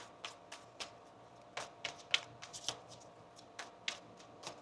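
Tarot cards are shuffled by hand in a quiet room, giving a run of soft riffling bursts and crisp flicks at an uneven pace, faint and close with no talking.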